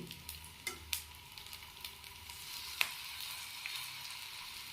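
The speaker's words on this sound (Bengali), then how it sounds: "তাওয়া গরম হয়ে যাওয়ার পর একটু তাওয়াতে তেল ব্রাশ করে দিয়েছি, দিয়ে এবারে ব্যাটারটার থেকে এবারে এগুলো প্যানকেকের আকারে এগুলো দিয়ে দিচ্ছি।" Pancake batter sizzles quietly on a hot tawa brushed with oil and kept on low heat: a faint, steady frying hiss with a few soft clicks and pops.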